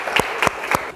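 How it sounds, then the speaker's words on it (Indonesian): A short burst of classroom applause in a high school chemistry lesson, with three or four quick, close claps in an even rhythm. "tepuk tangan untuk kalian semua"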